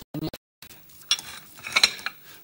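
A spoon scraping and clinking against a pot while food is stirred, with several short metallic taps and scrapes, close and moderately loud, no talking.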